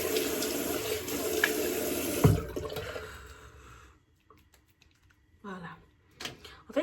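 Running tap water splashes steadily at a bathroom sink while a face is washed, then cuts off into quiet with a few faint drips and small handling sounds near the end.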